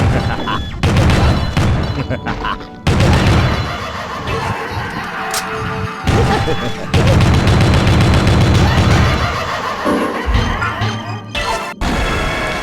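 Gunshots and crashing impacts in the video game Killer7, loud, repeated bangs and smashes in dense bursts with short gaps, along with game sounds and a voice talking.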